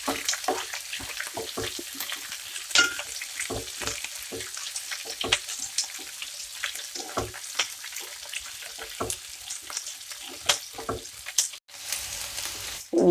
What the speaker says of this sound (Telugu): పచ్చిమిరపకాయలు, ఉల్లిపాయలు ఫ్రై అయిద్దాం.